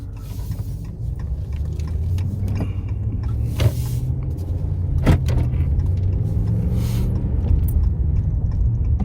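A 2017 Dodge Ram 1500 Lone Star Edition pickup with the 5.7 V8 rumbles steadily while making a U-turn, heard from inside the cab with a few faint clicks and knocks.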